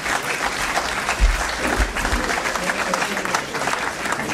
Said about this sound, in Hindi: तालियों की गूंज में।